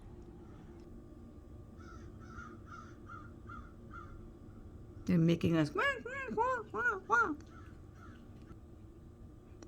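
Several crows caw in a loud, rapid burst of harsh calls near a tree, following fainter repeated bird chirps, with a person talking throughout.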